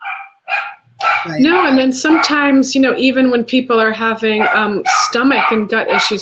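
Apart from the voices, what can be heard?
dogs barking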